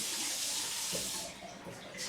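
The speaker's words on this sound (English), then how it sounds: "running water in the kitchen." A kitchen faucet runs in a 130-year-old farmhouse, giving a steady, bright hiss of flowing water that holds fairly constant, then eases slightly toward the end.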